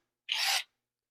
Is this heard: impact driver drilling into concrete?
yes